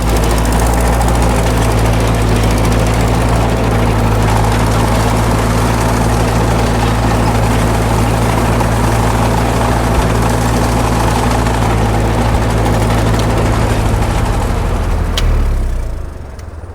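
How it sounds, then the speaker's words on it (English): A tractor pulling a sickle mower works a field, its engine droning loud and steady with a mechanical clatter underneath, before cutting off near the end. "Sickle mowing, check it out."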